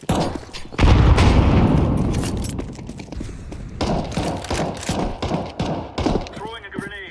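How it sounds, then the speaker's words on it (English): Counter-Strike gunfire and grenade explosions from a Vitality versus G2 Blast Premier grand final: a heavy boom, then bursts of rapid shots and thuds, with voices talking over the action. "Throwing a grenade. Throwing flashbang. Grenade out."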